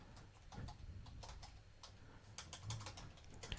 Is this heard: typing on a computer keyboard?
yes